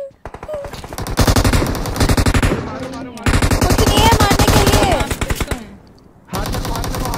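Rapid machine gun fire rattles in long, dense automatic bursts during video game play. The bursts are loud and close and broken by short pauses.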